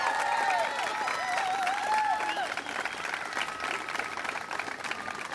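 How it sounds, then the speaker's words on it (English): Audience applause during a city bicentennial celebration honoring high school state champions, sustained clapping from a large crowd with a voice speaking briefly over the start. "Let's give each of them a round of applause,"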